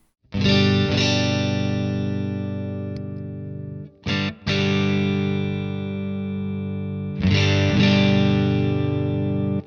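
Guitar played through a Catalinbread Dirty Little Secret Deluxe pedal in super bass mode, with full sustained chords ringing out, pausing, then struck again, with a thick low end and light distortion.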